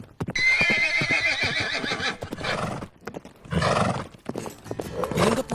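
A ridden horse gives a long, loud whinny up close, followed by a second neigh, with hooves clip-clopping beneath and between the calls.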